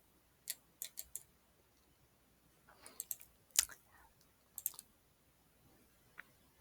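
Computer mouse clicking on app elements, faint sharp clicks in small clusters, with quiet gaps between them.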